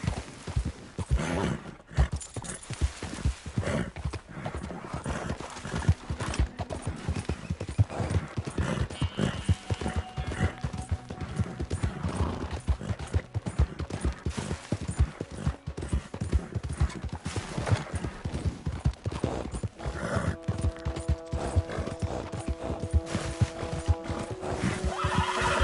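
Hooves pound in a fast gallop throughout in Red Dead Redemption 2, with a horse whinnying near the end as a synthetic musical tone rings out.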